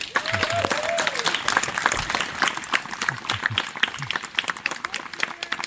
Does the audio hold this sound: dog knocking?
no